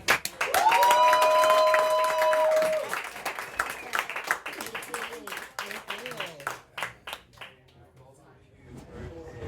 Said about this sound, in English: can we give a massive, huge round of applause for the hilarious Ryan Thompson